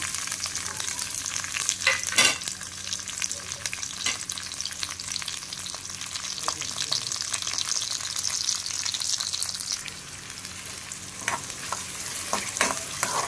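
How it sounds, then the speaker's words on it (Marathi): Chopped onion fries in hot oil in a kadhai, a continuous close sizzle broken by scraping stirs and occasional clinks of the spoon against the pan. "आणि कांद्याला चांगला मऊ होईपर्यंत फ्राय करून घेऊया"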